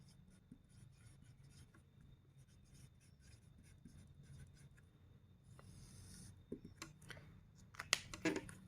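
Pen writing on paper during a maths lesson, a faint continuous scratching and rubbing across the whole stretch, growing into a few louder strokes and taps near the end, with no talk.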